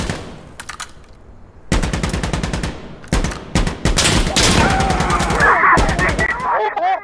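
Rapid automatic gunfire and bursts of shots ring out in the video game Insurgency: Sandstorm, loud and close, with players talking over the fire throughout.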